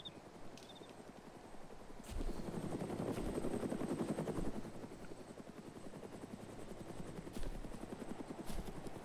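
Blackhawk helicopter in a video game, its rotor thumping steadily throughout while a burst of rapid gunfire swells in the middle, with a few sharp clicks scattered across.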